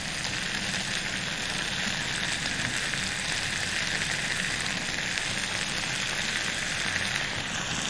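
Chopped onion hits a hot pan for Mongolian beef, giving a steady, loud, even frying sizzle with a broad hiss that holds without pause for the whole stretch, no voices over it.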